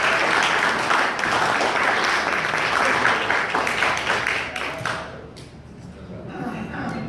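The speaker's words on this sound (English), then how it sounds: "Can we give her a round of applause?" Loud, dense applause from a crowd fills the space, then thins out and tapers off toward the end with scattered claps.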